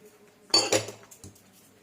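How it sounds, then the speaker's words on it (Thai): A utensil stirs a corn and sugar mixture in a pot, giving a couple of close metallic clinks and scrapes in quick succession, then a fainter tap, against a quiet background. "แล้วเราก็คนส่วนผสมให้เข้ากัน กวนต่อไปน้ำตาลละลายนะคะ"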